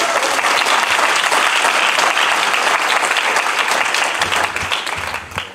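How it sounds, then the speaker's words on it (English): Loud, dense applause from a large graduation ceremony audience fills the hall steadily, then thins and fades near the end as the clapping dies down. "Let's give them a warm applause."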